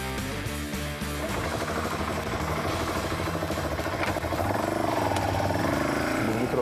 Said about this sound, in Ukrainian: мотоцикл щось схожий на кросове,